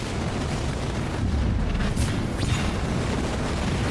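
A big explosion in the video game Halo Wars 2 produces a dense, sustained low rumble and roar that fills the whole stretch, loud and broad with no clear separate blasts.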